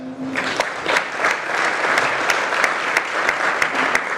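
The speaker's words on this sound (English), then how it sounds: "I just want to have you give yourselves a round of applause for that" Audience at a Detroit business breakfast club event applauding themselves, a sustained patter of many hands with distinct individual claps punctuating it, close and even in loudness for the whole stretch.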